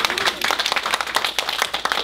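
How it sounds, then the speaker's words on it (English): Audience giving a round of applause at a talk on high school research and leadership, close, uneven clapping with distinct individual claps standing out in a lively burst. "could we give one more round of applause to my dad?"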